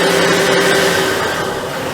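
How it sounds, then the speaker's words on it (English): A boat's diesel engine runs with its engine hatch open, a loud, steady mechanical drone close by with no one talking. "We have an open engine hatch, that's why you can hear the diesel running"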